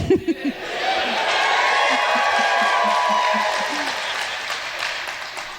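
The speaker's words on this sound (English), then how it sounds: "I don't know why they're clapping, Scott." A studio audience at a comedy podcast taping breaks into sustained applause with cheers and whoops, a dense, loud wash of clapping that swells and then slowly eases, with a brief voice at the start.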